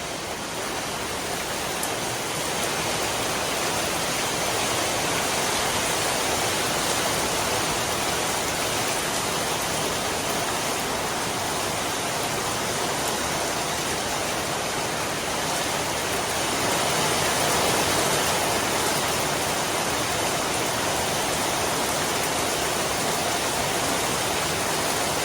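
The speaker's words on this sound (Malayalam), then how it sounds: "മഴയാണെന്നുണ്ടെങ്കിൽ ഒരറ്റത്തുനിന്ന് വരുന്ന സൗണ്ട് നമുക്ക് കേൾക്കാൻ പറ്റും." Heavy rain pours in a steady, dense hiss that holds evenly loud for the whole stretch, with no voices.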